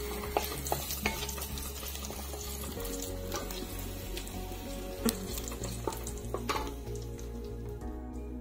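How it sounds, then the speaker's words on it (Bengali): Chopped garlic fries in mustard oil in a karahi for elephant apple pickle, giving a steady, close sizzle that runs throughout, with a few light clinks from stirring. "সরিষার তেল দিয়ে দিলাম। রসুন কুচি দিয়ে দিলাম।"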